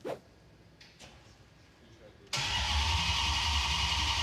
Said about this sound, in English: Starter works good.